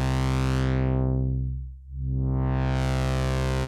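A buzzy Sequential Take 5 synthesizer tone is swept down by a filter with no resonance until it turns dull and muffled, then opens back up to bright, smooth with no ringing peak.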